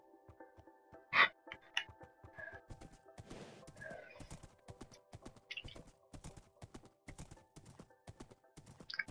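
Hooves clip-clop steadily from a horse in a video game, with a sharp neigh near the start and a clicking gallop rhythm running throughout, fairly faint and alone.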